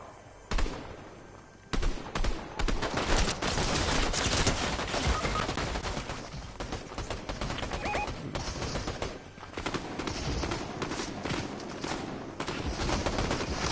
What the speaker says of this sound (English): I was shooting and it wasn't counting.